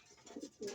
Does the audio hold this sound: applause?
no